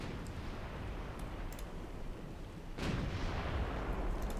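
Naval guns fire in Ultimate Admiral Dreadnoughts, a warship battle video game. A dense, rumbling wash of distant gunfire is followed by a louder, heavy boom partway through, with no talk.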